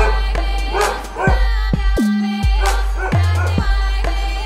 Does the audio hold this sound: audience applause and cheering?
no